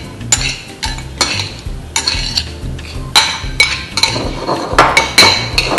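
Crushed fresh garlic and chopped basil being stirred in a bowl as a bruschetta topping, with repeated scraping strokes and bright clinks of a utensil against the bowl, close and steady, no talking.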